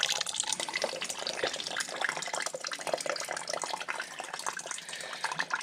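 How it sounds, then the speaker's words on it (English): Water trickles and drains out from beneath a tub of swollen, soaked chicken feed grain, a close, steady, faint splashing patter with no talk. "See how the water's running out from underneath of it there?"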